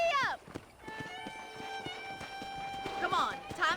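Horse hooves clip-clopping at a brisk pace in the Western game Red Dead Redemption, steady beats under a long sustained musical tone, with a horse whinny at the start and end.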